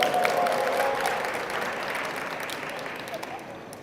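Church congregation applauding during a Sunday service, a burst of clapping that starts loud with a voice over it and then gradually fades.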